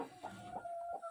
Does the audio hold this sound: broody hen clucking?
yes